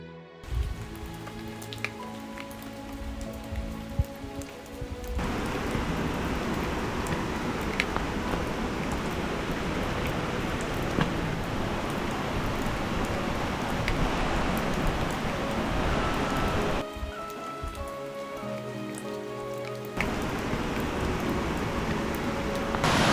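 Rain falling steadily in a misty mountain scenic area near a waterfall, a dense close patter that starts abruptly, holds evenly for most of the span, then briefly eases before returning.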